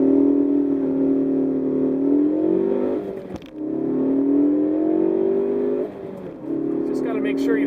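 A Ford Focus ST engine pulls hard through the gears, its close, loud note climbing steadily with two brief dips at the gear changes before rising again.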